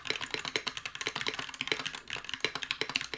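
Rapid typing on a keyboard with stock Gateron Red switches, plate foam and a non-metal case, giving a dense, continuous clatter of soft keystrokes recorded close up with no talking.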